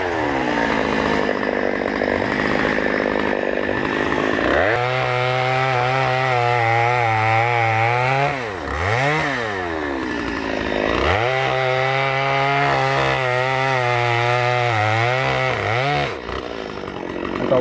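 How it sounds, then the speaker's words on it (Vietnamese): A chainsaw roars continuously up close, its engine pitch dropping and bogging as it bites into a small tree stump, then revving back up between cuts. "Ở đây có một chú đang cưa gốc nhỏ này"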